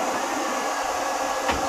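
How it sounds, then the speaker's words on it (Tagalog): Steady, loud rush of an electric blower fanning a coconut shell fire, a continuous broadband roar with no break and one brief flare near the end. "meron tayong blower dito mga pare ko, para mabilis siya papuyin"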